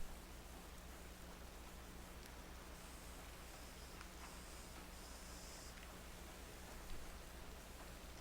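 Rain falling outside at night during a power outage, a soft steady hiss with scattered drops, faint and continuous with no thunder and no voices.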